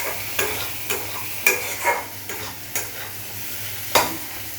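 Spice paste stir-fried in a pan for a home curry, a soft continuous sizzle broken by regular scraping strokes of a spoon against the pan, close and with no talking.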